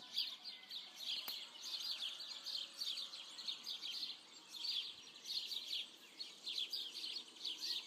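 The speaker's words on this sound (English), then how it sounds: "listen to the song of birds" Several birds chirp and sing in quick, bright trills, fairly distant and soft, with no voices, outside a Franciscan cork convent.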